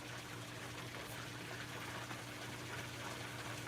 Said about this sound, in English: I guess that is sort of a natural sounding sound, a little waterfall action for sure.